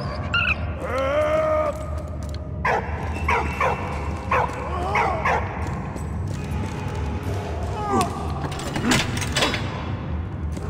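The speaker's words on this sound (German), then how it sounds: "Hund." A dog in the video game Valiant Hearts barks and yips in repeated short bursts with some whimpering, heard close over a game soundscape.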